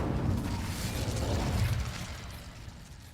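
The Incendio fire spell goes off in Hogwarts Legacy at the entrance to a dark herbology corridor, a broad rushing burst of flame and crackle that is strong at first and then dies away, with no voices.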